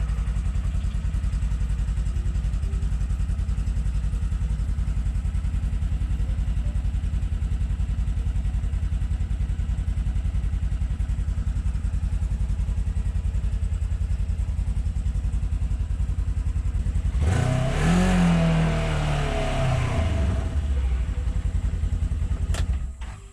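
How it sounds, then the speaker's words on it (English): A 2022 Polaris General utility vehicle engine idles with a steady low rumble for a long stretch, then revs up sharply before settling and cutting off. "So this 2022 Polaris General has like 180 miles, so we'll see if it starts."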